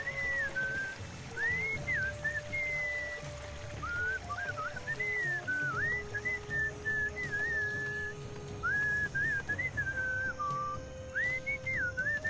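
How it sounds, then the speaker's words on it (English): A melodic whistled tune in the Sam & Max adventure game, wavering phrases repeating over a steady soft background hiss, moderately close and continuous, with no talking. "What is that enchanting whistling sound?"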